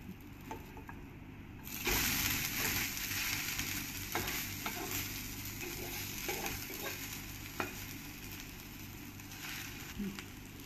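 A paneer paratha sizzles in a pan and is flipped partway through, the steady frying hiss jumping louder after the turn, with soft scrapes and taps nearby.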